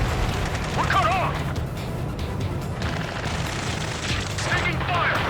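Gunfire in the Ace Combat 7 video game, with bursts of shots and booms in a busy battle mix, partly under shouted in-game radio voices.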